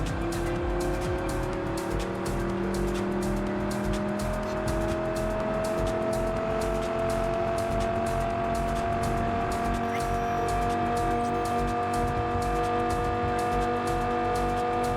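A car engine in Cyberpunk 2077 on PC drones steadily as the vehicle drives, its pitch slowly climbing with acceleration, with road noise and faint tire sounds underneath and no talking.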